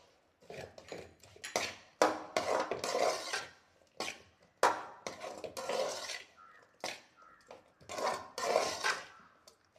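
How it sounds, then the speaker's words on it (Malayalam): Mango pickle with ground mustard and fenugreek is stirred in a bowl, a spoon scraping and clinking in irregular bursts, quiet and close with short pauses between strokes. "എന്നിട്ട് നന്നായിട്ടൊന്ന് ഇളക്കി കൊടുക്കുക."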